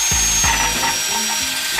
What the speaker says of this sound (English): Just to give you an idea how good this drill is